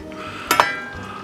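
A metal lid set onto a pot of Italian sausages in tomato sauce, giving two quick close clanks with a ringing metallic tone over a quiet steady background.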